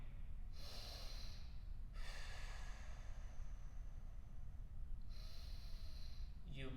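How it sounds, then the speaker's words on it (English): Breathing in through the nose and breathing out, slow deliberate cycles as a breathing exercise, with several soft close airy inhales and exhales spaced a few seconds apart. "You breathe in through your nose, sending the air straight down into your belly, which will expand"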